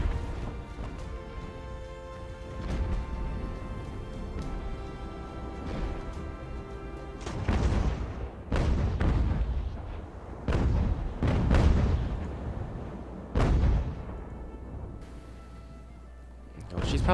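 Broadside of hull guns fired from a sailing warship in Ultimate Admiral: Age of Sail, heavy booming blasts arriving in a ragged series over continuous battle noise and a talking voice.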